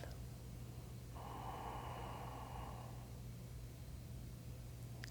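One slow, deep breath is drawn in during a seated chair yoga practice, a soft airy rush lasting about two seconds, close but faint over a low steady hum.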